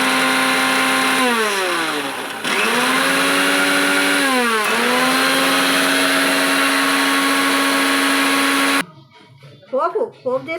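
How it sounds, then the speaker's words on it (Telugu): A kitchen mixer grinder grinds ingredients for a village-style recipe, its loud motor whining and dipping in pitch as the load shifts for about nine seconds, then stopping abruptly before a brief voice speaks. "ఇగో మిక్సీ పట్టినాం"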